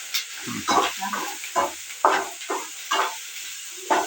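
Spices for North Karnataka style masala khara roasting in a pan, with a series of scraping stirs and soft sizzling hiss in short bursts about every half second, close and clear with no talk.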